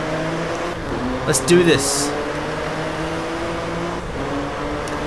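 Car engine in the Drive Club racing game, a BMW on a Germany track, holds a steady droning hum throughout while someone briefly speaks over it.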